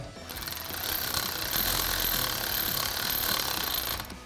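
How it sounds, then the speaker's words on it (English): Electric ratchet with a 10 mm socket on a 1/4 inch drive, working a bolt during a cold air intake install on a 1996-2004 Ford Mustang; a steady buzzing motor whir runs continuously for about four seconds, close and fairly loud. "It's a 10 socket with a 1/4 inch drive electric ratchet."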